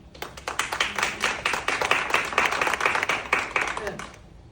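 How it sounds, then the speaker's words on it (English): A few people at a campaign canvass launch clap fast and steadily for about four seconds, then the clapping stops abruptly. "I'm sorry if I interrupt to clap"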